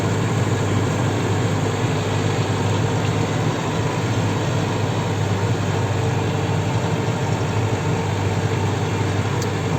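A fully mechanical Renault 103.54 farm tractor engine idles steadily and close by, a constant low diesel rumble throughout with no talking.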